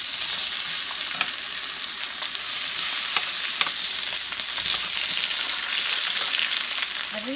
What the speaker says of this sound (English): So I've sliced them thinly because we're just going to grill them with a little bit of salt and pepper now on the grill